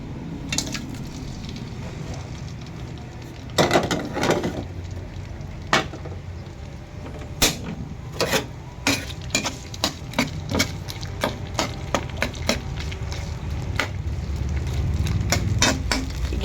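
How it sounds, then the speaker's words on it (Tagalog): Shrimp sautéing in a pan for pakbet with okra, a low steady sizzle punctuated by frequent sharp clicks and scrapes of a utensil stirring and turning, close and moderately loud. "umpisa na po natin siyang igisa. So ayan po, ihulog na po natin yung ating panahog na hipon"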